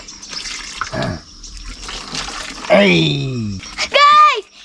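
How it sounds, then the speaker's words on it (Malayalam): Water splashes and pours while a baby is bathed at home, with bursts of running water mixed with high, wavering voices nearby. "ഞങ്ങൾ ഇപ്പൊ വാവനെ കുളിപ്പിക്കുകയാണ്."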